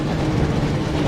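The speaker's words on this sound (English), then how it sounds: "Looks like we found the train, Ron." The Hogwarts Express train from the PS1 game Harry Potter and the Chamber of Secrets rumbles loudly and steadily, a dense low rolling drone with no pauses.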